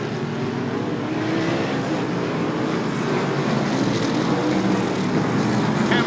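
Race cars roaring around a short track during a Super Short Track Racing Series qualifier, a dense, steady engine drone with no break across the stretch.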